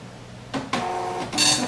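A printer running a patient card print job: a short whirring mechanical burst, a pause, then a longer feed and a higher rattling pass near the end, close and fairly quiet, with no talk.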